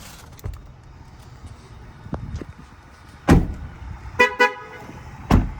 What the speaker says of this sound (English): They beep anytime you actually have the car running, or if you like just step out of your vehicle.